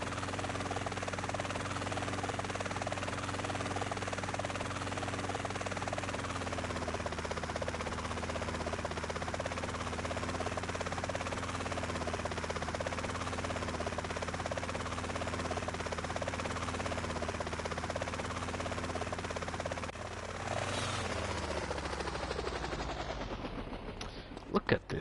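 A helicopter in the video game GTA San Andreas churns out a loud, steady rotor drone for about twenty seconds, then the sound shifts and breaks up near the end.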